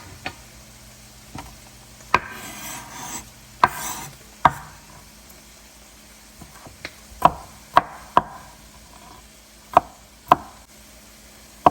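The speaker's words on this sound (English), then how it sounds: "I'm about to start chopping up the garlic in small pieces" A knife chops garlic into small pieces on a board in sharp, irregular taps, some in quick pairs, close up with faint scraping between strikes.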